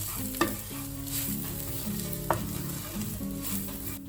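Pepper powder and spices are stirred in a hot pan for a chicken liver roast. A steady, loud sizzle is broken by two sharp utensil knocks, and no one talks.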